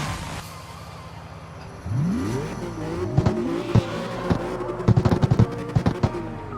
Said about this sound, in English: Hopefully y'all can hear the cars too.